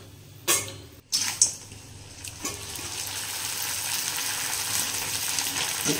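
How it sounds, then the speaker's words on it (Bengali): Bat-shaped papad drops into hot oil with a few sharp clicks and clatters, then a frying sizzle builds and holds steady and close, with no talking. "আর এক রকম আছে, সেটা ভাজবো, সেটা হচ্ছে ব্যাট পাঁপড়।"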